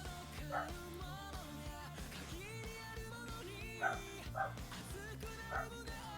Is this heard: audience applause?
no